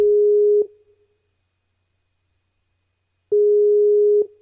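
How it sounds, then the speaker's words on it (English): A telephone busy signal sounds as a steady tone that runs for about half a second, falls silent for several seconds, then returns for roughly a second, heard alone while a call is being reconnected. "We're going to get Rob back on the phone"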